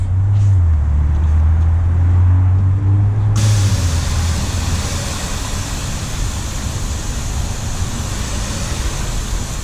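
Water spray rinses shampoo off sealant-coated car trim, a steady loud hiss that bursts in after a few seconds of low engine-like hum and then runs continuously.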